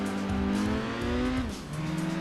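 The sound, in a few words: MGF race car engine in video game Gran Turismo 2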